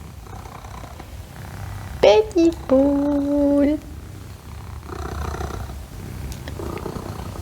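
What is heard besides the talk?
cat purring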